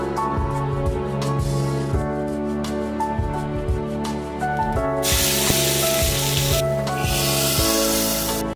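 Cumin, coriander, garlic and a pinch of asafoetida hit two spoons of hot desi ghee for a dal tempering, a close sizzle that swells into a loud hissing burst midway, over steady background music.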